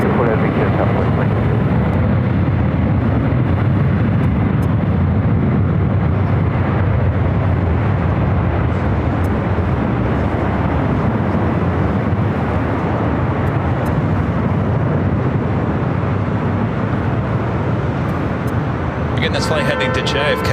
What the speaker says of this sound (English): This flight heading to JFK. It's a Delta 767 300 ER.